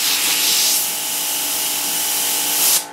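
Airbrush blowing compressed air from a SilentAire 20A compressor at higher pressure, a close, steady hiss that eases slightly, then rises again before cutting off.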